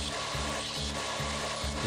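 A bench grinder shapes a homemade axe head, giving a loud close grinding rasp with a regular repeating throb, no voices.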